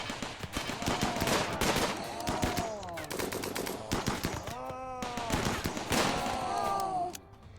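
Turrets in the video game RimWorld fire bursts of rapid gunfire, repeated volleys crackling close and loud over several seconds with short pauses between them.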